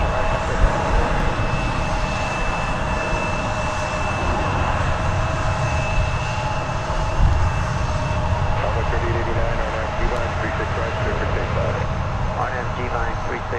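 At DFW Airport an airplane takes off from runway 36 right, a steady broad engine roar that fills the scene at constant loudness throughout.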